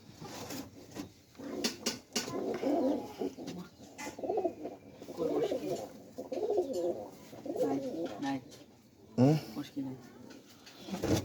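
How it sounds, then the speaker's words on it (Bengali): Pigeons kept in a loft coo softly in low, throaty bursts, close but fairly quiet, mixed with faint rustling while people talk nearby. "আজকে আপনাদের ধরা কবুতর আরও একটা দেখাবো"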